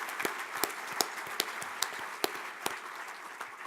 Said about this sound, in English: maybe a chance to recognize our outgoing superintendents, Dr. Flowers, Dr. Schatz, and Dr. Kovash with a round of applause here.